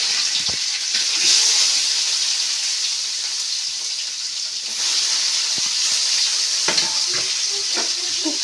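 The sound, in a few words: curry leaves sizzling and frying in oil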